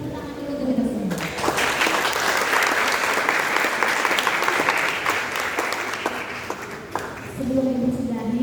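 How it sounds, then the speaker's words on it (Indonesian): Audience applause at a July 2024 student orientation assembly at SMA YPK Oikumene Manokwari: a dense, steady wash of clapping lasting most of the clip, with a voice speaking briefly before it starts and again as it fades. "Tepuk tangan dulu untuk kita semua."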